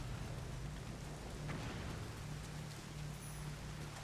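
Rain falls in a video game, a faint, even wash of hiss with a low steady hum beneath and no talking.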